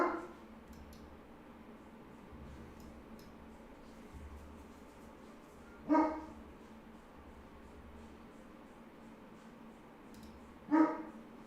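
Dog barking at a distance, two short single barks spaced about five seconds apart over a quiet steady background hum, with no talking.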